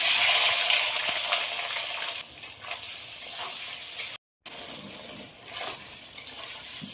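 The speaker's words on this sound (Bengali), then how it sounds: "এবার এই তেলের মধ্যে চিংড়ি মাছগুলো ভেজে নেব" Loud, steady sizzling of shrimp frying in hot oil with turmeric and salt, with a few stirring scrapes and brief pauses in the hiss.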